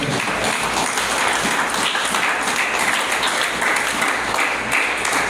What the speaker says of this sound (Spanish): ¿Cuánto le damos un aplauso al Señor?